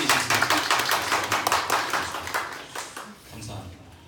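Church congregation applauding during a Sunday worship service, a dense run of hand claps filling the room at steady volume for several seconds, thinning slightly near the end.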